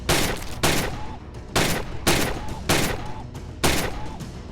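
Repeated gunfire from the VR shooting game Gun Club VR on PSVR, five loud sharp shot bursts spaced roughly evenly about a second apart, each trailing into a short decay.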